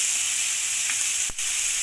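Onions for a chicken curry made with rice flour and curd sizzle steadily in a hot pan, a constant bright frying hiss with one brief clack of a utensil partway through.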